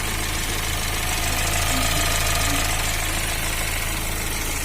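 A Fiat Uno Evo with a Fire engine idles steadily, giving a continuous close mechanical rumble with a faint, light knocking woven through it, alone and without talk.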